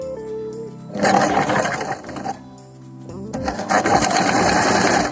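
Sewing machine stitching an umbrella flared churidar top, two loud close bursts of fast rhythmic needle clatter separated by a short pause and quieter motor hum.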